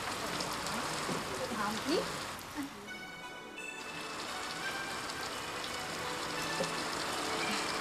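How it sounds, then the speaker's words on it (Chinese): Heavy rain pours down steadily in a constant hiss, with a couple of brief spoken words over it. "天有不測之風雲，會無端端落咁大雨嘅？"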